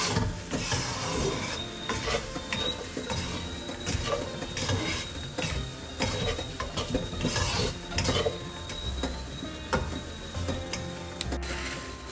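Egg curry masala sautéing in an oil-filled kadai, a steady soft sizzle broken by scattered ticks and scraping stirs, close and fairly quiet with no voice.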